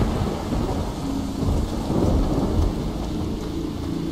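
Steady rain with low rumbling thunder from the game Pineview Drive, a dense continuous wash of rainfall under a deep rolling storm, heard alone with no voices.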